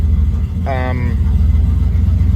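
A car engine on standalone EFI idling near its target speed of roughly 800 to 900 rpm, a steady low rumble throughout, with a brief voice over it.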